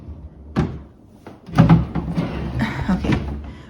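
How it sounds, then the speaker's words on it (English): Kitchen cabinet doors are shut one after another in a home kitchen, giving several close wooden thunks and knocks at an uneven pace, with small rattles between them. "Gotta make sure the doors are closed."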